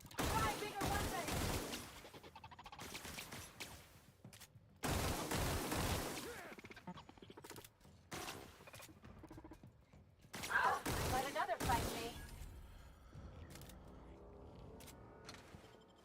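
Bursts of gunfire from a gun in the space adventure game The Outer Worlds, several loud volleys of rapid shots separated by short quieter gaps, with a voice talking in between.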